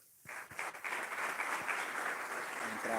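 A church congregation breaks into applause during an evening service, a few sharp early claps giving way to a steady, dense wash of clapping that holds at moderate level, with faint voices emerging near the end.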